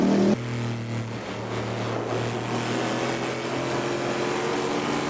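An aluminum-block, titanium-valve V8 race car engine roars at full throttle and high revs in a sustained, steady drone, loud and close, with no voices.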